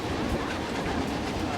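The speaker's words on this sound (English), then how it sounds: "here comes the train" A train passes by in the Planet Coaster 2 theme park game, a steady, loud rolling rumble of wheels and cars that holds without a break.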